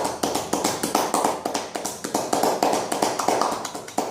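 Fast, steady hollow slapping of cupped hands on skin over the gluteal muscles during a sports massage, a rhythmic percussive patter of about four strikes per second, close and fairly loud.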